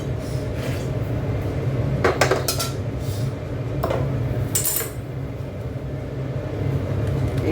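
Metal pots, a wok and utensils clatter and clank intermittently in a home kitchen during washing, with steady background noise and a few sharper scraping knocks.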